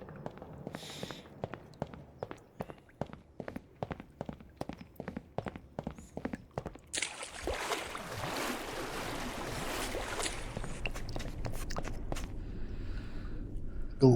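Water in a dim backrooms pool area in a video game: a series of soft, evenly spaced splashy footsteps, then a steady wash of rushing, lapping water that swells and holds, with faint voices now and then.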